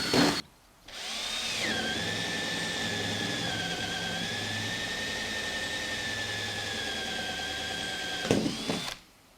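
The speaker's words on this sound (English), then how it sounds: "The reason I've got the piece of wood high off the ground is so I don't break the drill bit when it goes through." A power drill whines steadily as it bores through wood for about seven seconds, starting and stopping abruptly, loud and close with no talking.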